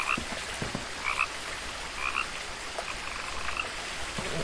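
Frog croaking in a video game, with repeated short croaks in a steady rhythm over a dense, continuous nighttime ambience of insects and chirps.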